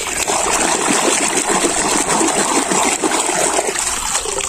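Steady running water splashes and trickles continuously while toy animals such as a cow, duck, goose, chicken, elephant, chimpanzee, lion, camel and crocodile are washed, loud and close with no talking.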